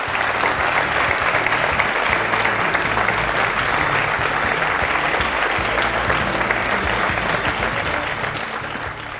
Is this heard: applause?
yes